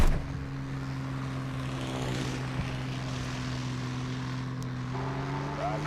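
Droning propeller aircraft engine from the War Thunder combat flight game, a steady hum holding even pitch throughout with a faint shift near the end.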